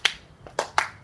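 Three sharp finger snaps in a dance routine, the first alone and the last two closer together, crisp and fairly close against a quiet background.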